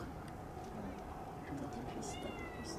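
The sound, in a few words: cat meowing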